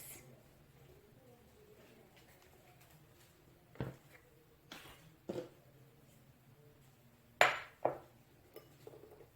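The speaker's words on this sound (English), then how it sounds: "then I'll break our eggs" Eggs cracked against the side of a bowl while making Ugandan half cakes, a few sharp separate taps and cracks, close and fairly quiet, spaced out over several seconds in an otherwise quiet kitchen.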